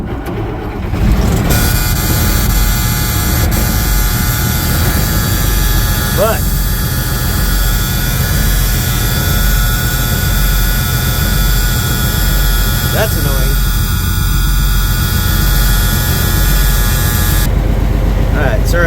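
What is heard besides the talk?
M35A2 deuce and a half military truck engine starting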